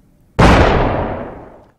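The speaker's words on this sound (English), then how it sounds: "No, more explosions." Single loud explosion with a sharp onset and a long rumbling decay, heard alone and close.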